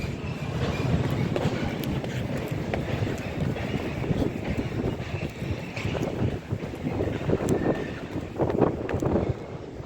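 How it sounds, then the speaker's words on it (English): A freight train rolls through Rugby station on the West Coast Main Line, a steady loud rumble with rattling wagons and wind buffeting the microphone throughout. "Got another freight service coming through."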